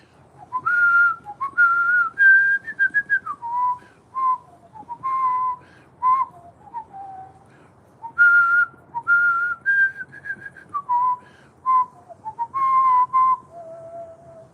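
A clear, close whistled ocarina melody from a video game in flowing phrases with short pauses, the tune rising and falling like a simple folk song.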